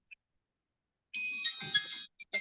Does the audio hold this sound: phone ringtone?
yes